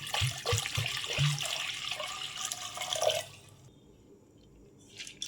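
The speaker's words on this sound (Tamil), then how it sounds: "பருப்பு வேகிறதுக்காக தண்ணி அதில் ஊற்றிக்கலாம்" Water splashes and pours into a metal pressure cooker for about three seconds, then stops, leaving quiet room tone with a faint clink near the end.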